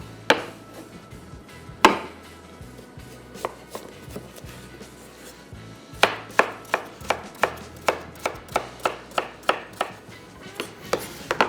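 A carrot chopped with a knife on a board, a few scattered cuts at first, then a quick, steady run of crisp, close knocks.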